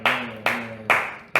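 Four sharp hand claps land evenly about every half second in a rap track, each a bright broadband snap over a steady low bass tone, with no voices.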